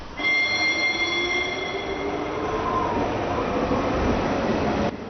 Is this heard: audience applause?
no